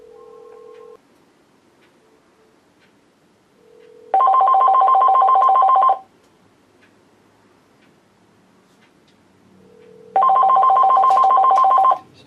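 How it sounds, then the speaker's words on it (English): A landline phone attached to a CPR V50 call blocker rings for an incoming call, giving two loud electronic ring bursts of about two seconds each, separated by several seconds of quiet. "Well, it's ringing."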